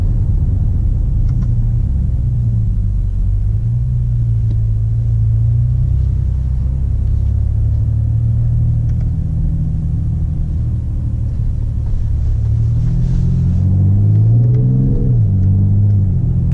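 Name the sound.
diesel SUV engine revving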